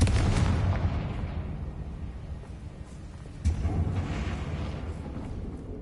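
Heavy spell blasts in a Hogwarts Legacy fight, a dense rumbling boom that decays and a second sharp burst about midway, loud and close with no voices.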